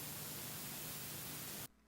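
A white noise sample with a dirty vinyl crackle plays in a dub techno production, a dense, loud hiss that runs steadily for under two seconds and then cuts off abruptly.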